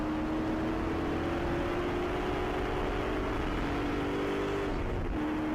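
Spec Corvette race cars run at Sonoma Raceway in a session of 57 cars, a steady engine drone holding at a distance, with a slight dip and shift in pitch near the end.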